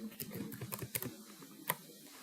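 Computer keyboard typing in Microsoft Word: a quick run of soft, close key clicks, then a pause and a single sharper keypress like the enter key, with no talking.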